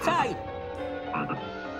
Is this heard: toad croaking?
yes